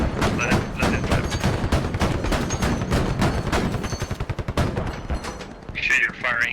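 Gunfire in the tactical shooter game Squad, with a dense burst of rapid automatic shots and heavy reports hammering steadily for several seconds, loud and close, as voices talk over it.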